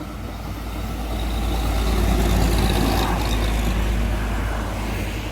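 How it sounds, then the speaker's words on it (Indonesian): A heavy Isuzu tronton dump truck engine rumbles loudly and steadily, its deep roar swelling slightly and holding close by with no talking. "Suara mesinnya gahar banget lur."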